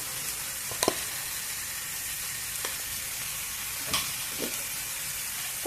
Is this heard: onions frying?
yes